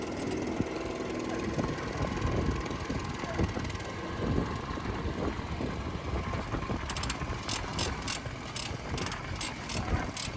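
Autonomous agricultural spray drone flying over a farm field, a steady loud rotor whir and engine-like drone running throughout, with repeated high ticking pulses in the last few seconds.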